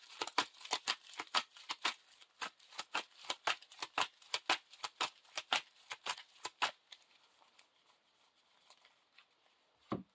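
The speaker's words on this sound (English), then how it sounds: "Shuffle the encounter deck." A deck of Lord of the Rings card game encounter cards is shuffled by hand, giving a rapid run of crisp riffling bursts for several seconds before a quieter pause and one last soft tap.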